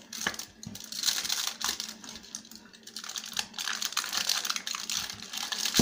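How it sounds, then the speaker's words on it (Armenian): Aluminium foil is cut and crinkled while wrapping kebab for the oven, a close, continuous rustling and crackling with soft snips throughout. "այնուհետև կտրում ենք ֆոլգան։"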